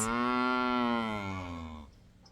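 A heifer gives one long, loud, close moo with a rich, slightly falling tone, fading away after about two seconds.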